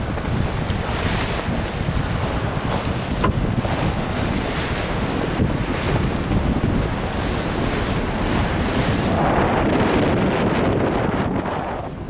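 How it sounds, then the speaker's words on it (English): Steady wind and breaking waves wash over a sailboat at sea on a passage from Montauk toward North Carolina, a loud continuous roar with gusty microphone buffeting throughout and no voices. "Wind's picked up a little bit."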